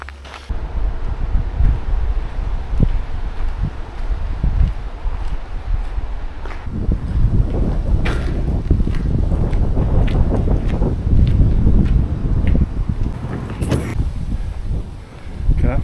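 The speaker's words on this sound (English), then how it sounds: "So if you do hear any wind, then I apologise." Outdoor wind buffets the microphone, a loud, continuous low rumble with gusty swells throughout, and a person speaks at moments under it.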